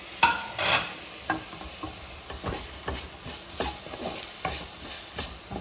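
Tomatoes being stirred into poha sizzling in a pan, with a soft steady frying hiss under repeated scraping strokes of a spoon, close and fairly quiet, with no talk.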